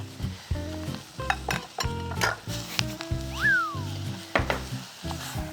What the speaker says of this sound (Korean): 저는 양념이랑 한 번 더 볶아서